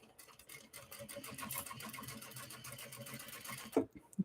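A Juki DDL 8100 industrial sewing machine stitching bags in steady, rapid bursts of whirring needle strokes, close and continuous, ending with a couple of sharp clicks.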